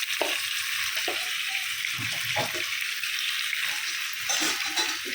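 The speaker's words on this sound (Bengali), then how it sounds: "এখন আলুগুলিকে একটু লাল লাল করে ভেজে নেব" Two medium potatoes with a pinch of salt and turmeric fry in a pan, giving a steady hissing sizzle, with soft stirring scrapes and clinks scattered throughout.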